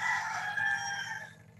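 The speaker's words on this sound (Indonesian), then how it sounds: "banyak ayam berkokok, biasa melihara ayam" Several roosters crow at once, loud and close, a sustained layered cry that fades out after a second and a half.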